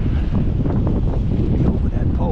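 Strong wind buffets the microphone on a boat out fishing, a loud, constant roaring rumble that fills the whole clip.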